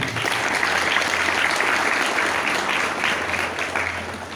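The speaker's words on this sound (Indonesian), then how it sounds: "Tepuk tangan untuk beliau" A crowd applauds loudly and steadily, a dense wash of clapping that tapers off slightly toward the end, for a speaker at a pesantren scholarly-tradition lecture.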